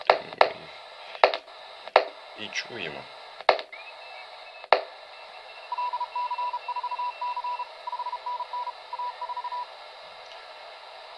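Faint on-off Morse code tones from contest telegraph stations beep in a steady pattern over shortwave radio hiss on a TYT TH-9800 with a home-made oscillator, following several sharp clicks and a brief tuning whistle.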